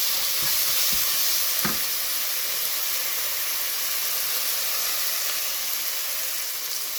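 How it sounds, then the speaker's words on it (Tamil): Ingredients for a Tamil village-style rabbit gravy sauté in a hot pan, giving a steady, loud hiss and sizzle with a few brief stirring knocks early on. "இங்கே பாருங்கள் நல்லா வதங்குதுங்க."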